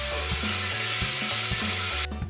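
Rabbit curry with turmeric and ginger-garlic paste sizzles steadily in a pan while a spoon stirs it in regular strokes about every half second. The frying is loud and close, with no talk, and it cuts off sharply near the end.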